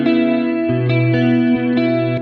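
Clean electric guitar with chorus in an 80s-inspired pop style, a sustained chord layer with short plucked changes, close and steady with no voices.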